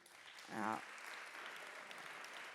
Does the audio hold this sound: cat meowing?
no